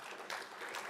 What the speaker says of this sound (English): Give a round of applause to Matt